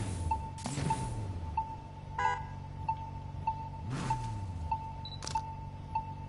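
A camera snapshot in the racing game Need for Speed Payback: a few sharp, bright shutter clicks stand out over a low, steady car engine hum and a faint tone.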